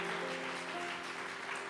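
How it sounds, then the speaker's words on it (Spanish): A church congregation applauds during a Spanish-language service. The clapping is a soft, steady patter from a distance, with a sustained tonal hum beneath it. "Dele un aplauso al Rey bendito"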